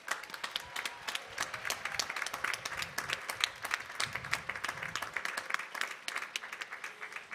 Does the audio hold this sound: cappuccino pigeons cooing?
no